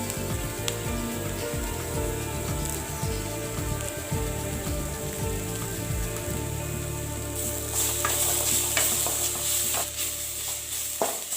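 Three sprigs of curry leaves go into hot oil with garlic paste for a samosa filling, sizzling under repeated scraping strokes of a spoon, and the sizzle flares louder and crackles near the end.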